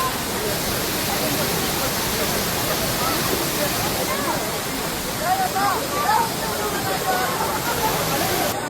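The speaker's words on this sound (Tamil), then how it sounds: "நெக்ஸ்ட் ஒரு ஃபால்ஸ்க்கு தான் போயிட்டுருக்கோம். இப்போ வாங்க எப்படி ஃபால்ஸ் எப்படி இருக்குன்னு" A waterfall at Yercaud, heard as a steady, dense roar of rushing water close by that fills the whole clip, with faint voices underneath.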